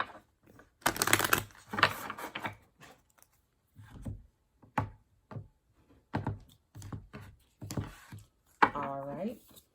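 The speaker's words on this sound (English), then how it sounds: "All right, last shuffle." Tarot cards are shuffled by hand in short papery riffles and soft taps, several quick bursts separated by pauses, close and quiet, with a voice speaking briefly near the end.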